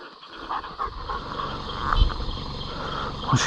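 A dog pants close by in floodwater hunting, quick rhythmic breaths with a faint whimper, fairly loud and steady over a few seconds.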